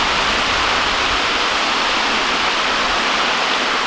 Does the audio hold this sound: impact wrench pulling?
no